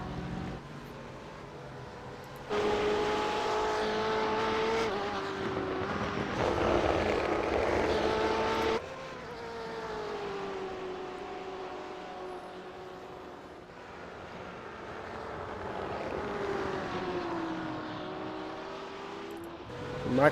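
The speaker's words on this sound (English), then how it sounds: "here we got a few cars coming on pit lane here" GT3 and GTE race cars at Mosport, their engines droning loud and sustained, rising and falling as several cars pass by and enter pit lane, with no talk.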